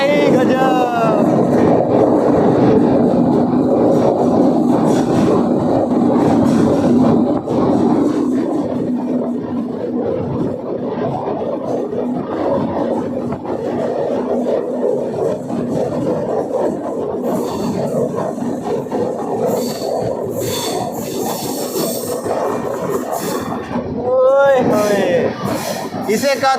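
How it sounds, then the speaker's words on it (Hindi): The Danapur Koderma Intercity Express rushes through a rock tunnel in Bihar, a loud, continuous roar of wheels and rushing air that swells and echoes for the whole stretch. "ये है इस ट्रेन का पहला केव।"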